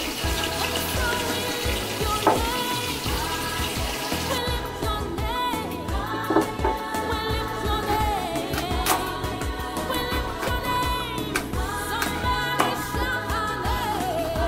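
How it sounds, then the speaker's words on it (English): Carrots are scraped and rinsed under a running kitchen tap, a steady loud rush of water with scraping and clattering mixed in, close by and continuous throughout, with no voices. "I'm going to scrape them and scrape the bottom, scrape the top, wash it"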